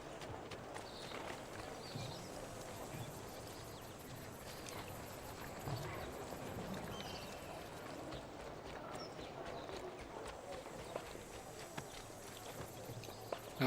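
A horse's hooves clip-clop in a steady trotting rhythm in the video game Assassin's Creed 2, fairly faint over a low background ambience.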